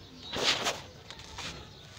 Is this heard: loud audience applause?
no